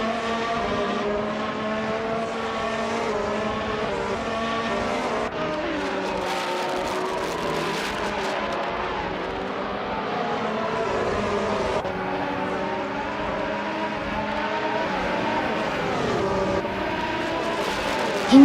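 Race cars in a video game roar steadily, several engines whining and shifting pitch as they jostle for position, a continuous moderately loud drone with no talk.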